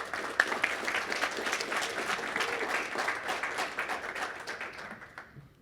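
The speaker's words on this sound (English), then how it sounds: "Let's give them a round of applause, please." An audience at a networking and early career development panel claps for the panelists, a moderate round of applause that holds steady and then tapers off toward the end.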